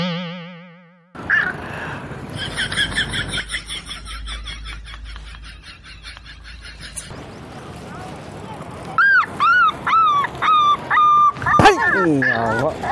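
A dog yelps and whimpers in a string of short, high, rising cries near the end, with a springy boing-like sound and dense background noise earlier.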